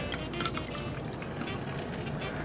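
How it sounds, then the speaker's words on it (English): A cocktail pours into a cup with a continuous trickling, splashing sound, close and fairly soft. "It's all about how you pour it."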